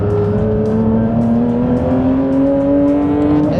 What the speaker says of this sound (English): This is a proper bullet-like gear change you get in this machine.